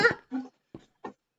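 A few short, soft whimpers from a dog in a Minecraft-style game come in separate bursts, the first two longer and the rest brief and faint, with no talking.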